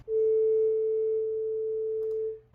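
A steady 444 hertz sine tone holds for about two seconds, clean and moderately loud, then cuts off, with no other sound.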